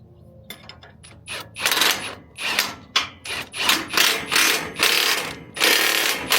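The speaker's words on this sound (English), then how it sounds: "Then we're going to throw this nut on with the handy dandy impact" Impact wrench running a nut onto a stud while fitting a ProvenLocks lock, a series of loud, rapid rattling bursts with short gaps, opening with a few lighter clicks.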